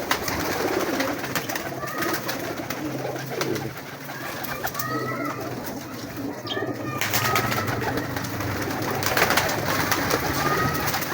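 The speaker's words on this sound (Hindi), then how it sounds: "कबूतर हैं।" Teddy pigeons at a breeder's setup coo softly and repeatedly amid a busy, noisy outdoor background with a steady hum and rustling, the calls mid-distance and overlapping.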